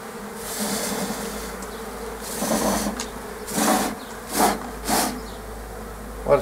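Honeybees buzzing around a hive frame during swarm handling, a low drone with several louder swells as bees fly close past, each rising and fading within a second or so.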